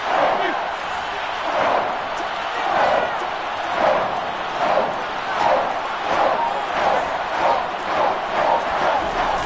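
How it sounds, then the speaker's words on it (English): An American football stadium crowd roars before a big third down, a loud, far-spread wash of cheering that swells and ebbs in rhythmic waves, with no commentary over it. "the crowd getting into it as we come up on a big 3rd down."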